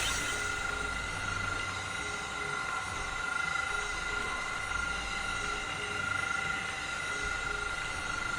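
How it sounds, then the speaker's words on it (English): A train moving in the game Zenless Zone Zero: a steady, continuous rumble with a faint metallic whine over it, constant in level from start to end, with no talk. "move the train"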